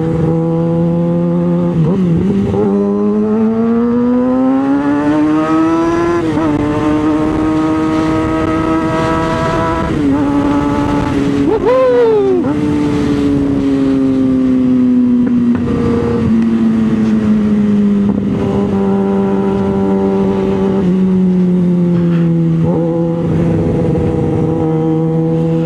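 A car engine revs loud and close in repeated long pulls, its pitch swelling, sagging and rising again with a few sharp blips, steady throughout and without speech.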